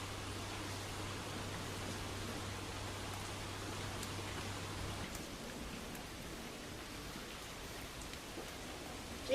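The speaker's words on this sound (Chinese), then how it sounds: "这雨始终就这么大，一直也没小啊" Heavy, steady rain pours on a parked car during a storm, heard from inside as a dense, even hiss, with a low hum underneath that stops partway through.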